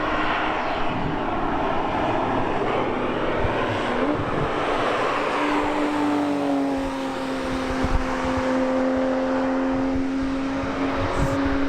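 Race cars on the Nürburgring during a track day, heard from trackside as a distant roar with one engine's tone rising and holding as it passes, steady and moderately loud with no voices.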